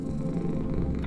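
A cat purrs in the game Lone Survivor, a steady low rumbling purr heard close and alone for about a second.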